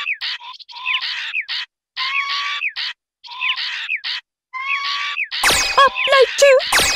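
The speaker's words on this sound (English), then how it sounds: "There's more birds." Repeated bird chirps and tweets from the video game Space Channel 5 Part 2, sounding in short bursts separated by gaps and then rising into a louder, denser cluster of calls at the end.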